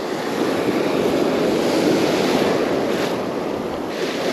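Ocean surf breaks and washes steadily at a fishing beach, a loud continuous roar close by with wind buffeting the microphone throughout.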